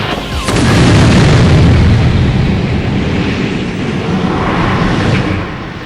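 A big, loud explosion in the PS1 game Crime Killer, a sudden deep boom that rolls on as a long roaring rumble and slowly fades.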